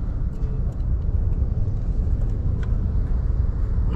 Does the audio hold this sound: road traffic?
yes